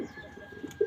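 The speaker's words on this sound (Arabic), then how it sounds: "زي النوع اللي أنا موريهولكوا ده حمام كينجي" King pigeons give a short, soft, low coo that swells briefly near the end, heard alone against quiet background hum.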